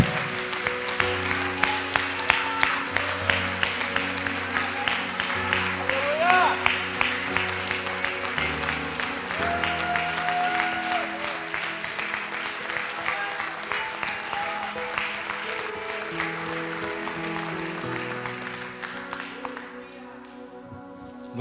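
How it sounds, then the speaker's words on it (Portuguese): A church congregation at a pastor's anniversary service claps in a steady rhythm alongside sustained music, the regular beats of many hands carrying on for a long stretch before tapering off near the end. "Vamos aplaudir a ele."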